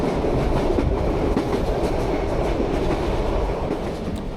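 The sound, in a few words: locomotive-hauled commuter train running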